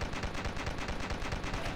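Rapid gunfire from the zombie-defence game Dead Ahead: Zombie Warfare, a dense, steady stream of loud shots with no pauses, running without any voice.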